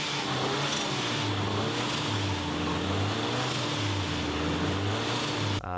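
A tuned Nissan SR engine in a drift car, a loud, close engine drone with a wavering pitch as the revs rise and fall.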